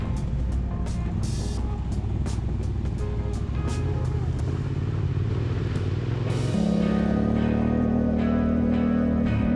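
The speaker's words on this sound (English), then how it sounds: "was riding my mighty Yamaha Tenere 700" A Yamaha Tenere 700 adventure motorcycle climbs a steep hill road through tall eucalypt forest, its engine droning steadily and loudly up close before stepping up to a higher, steadier note partway through.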